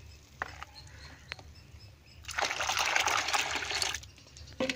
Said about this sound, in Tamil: நல்லா தண்ணியில் இதை கலந்துக்கணும்